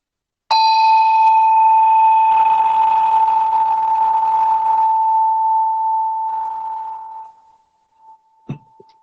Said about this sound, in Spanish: es una campana tibetana